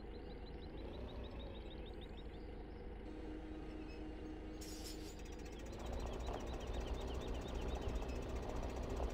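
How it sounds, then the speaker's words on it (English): John Deere 6810 tractor engine in Farming Simulator 15, a steady rumbling diesel drone running throughout, growing somewhat louder and rougher in the second half, with no voices. "And I am using the John Deere 6810, by the way."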